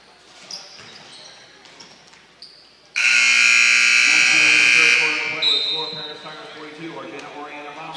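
A basketball game clock buzzer blares at the end of a quarter in a high school gym, one loud sustained electronic tone lasting about two seconds before crowd noise and an announcer's voice carry on.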